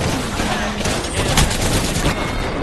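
Gunfire during an Apex Legends match: dense, overlapping shots and bursts with a heavier crack near the middle, all set against loud, busy game noise.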